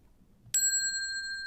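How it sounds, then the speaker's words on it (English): A single bright bell strikes once to mark time running out in a quiz show, ringing on as a clear sustained tone after the sharp hit, close and alone. "the bell's going to signify that we are out of time"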